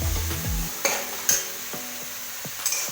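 Chopped tomatoes stirred in hot oil in a Kerala kitchen pan while making egg curry, a soft steady sizzle broken by a few sharp spoon scrapes and clinks against the pan.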